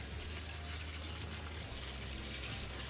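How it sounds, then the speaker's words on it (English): A garden hose sprays water across the leaves of an Adansonii houseplant, a steady, dense hiss of spray that stays constant throughout, with no talking. "I just have this hose, which is really helpful to be able to do this"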